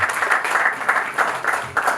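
Sustained crowd applause at an Easter gospel concert in BK Arena, with many hands clapping in a thick, continuous patter that rises and falls in small waves throughout.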